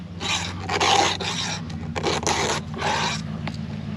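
Rough rasping scrapes in short repeated strokes during chainsaw maintenance, over a steady low engine-like hum, close and moderately loud, with no talking.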